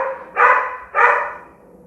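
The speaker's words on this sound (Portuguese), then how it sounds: "Ele tá latindo porque ele não tá afim que eu dê aula hoje." A dog gives two loud, close barks in quick succession indoors during an art lesson, each bark a full, resonant burst followed by a brief fading tail.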